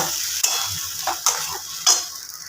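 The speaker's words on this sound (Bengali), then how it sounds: "এবার এটাকে খুব ভালোভাবে নাড়াচাড়া করে একটু ভাজা ভাজা করে নিতে হবে" Spice paste sizzles in a hot pan while a spatula stirs it, giving three or four sharp scraping taps over the continuous frying hiss.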